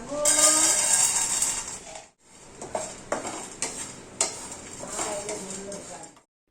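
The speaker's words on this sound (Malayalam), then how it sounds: "ഞാനിപ്പോൾ അതല്ലാത്തതുകൊണ്ട് ഇത് ജസ്റ്റ് ഇങ്ങനെ വറുത്തെടുക്കുകയാണ്" Flattened rice (aval) dry-roasts in a pan, with scraping and clinking of a utensil against metal in bursts and a brief pause, close and fairly loud, with no speech.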